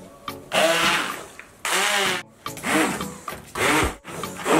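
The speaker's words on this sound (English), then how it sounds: "I'm just going to use my hand blender to blend this a little bit in here." Hand blender whirring through a plantain mixture for Ghanaian tatale, several loud bursts of motor whine stopping and restarting, each pulse a second or so long, close to the microphone.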